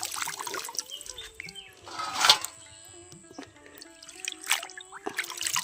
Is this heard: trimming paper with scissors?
no